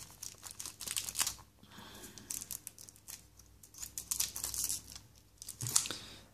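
Scissors snipping and sawing through parcel tape on a cardboard package, a run of close, quiet crisp cuts and crinkles with short pauses between them, no voices.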